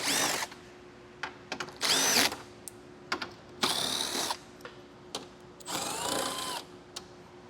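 A power tool whirs in several short bursts with pauses between, removing four 10mm bolts from a car while fitting a Roadmaster Direct-Connect base plate kit; no one speaks.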